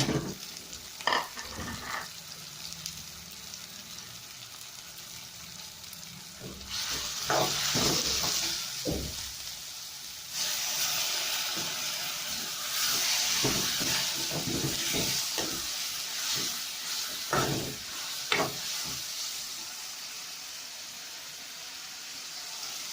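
Ginger garlic paste with garam masala and black pepper powder fries in a pan for a bottle gourd dish, giving a steady sizzle broken by repeated scraping stirs that come in short bursts.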